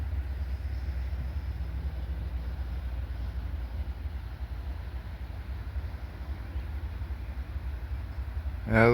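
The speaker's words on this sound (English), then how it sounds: "but got another train coming" A train rumbles steadily on a railroad line, a low continuous drone held throughout, with a brief rising tonal squeal near the end.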